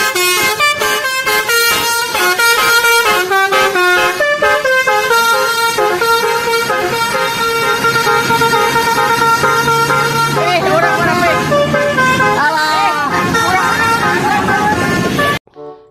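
ANS bus sounding its horn, a loud musical multi-tone horn playing a rapid melodic sequence of notes for about fifteen seconds, close and dominant, cutting off abruptly at the end.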